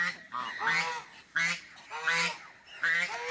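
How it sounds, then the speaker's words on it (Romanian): A goose honks loudly and close by, giving three harsh, nasal calls in quick succession with short gaps between them, alone without any talk. "Gâsca aia ultima."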